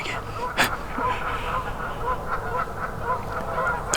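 Geese honk repeatedly on a Georgia family farm during a deer hunt, a steady run of loud, agitated calls at mid distance over rustling ambient noise, with people talking nearby.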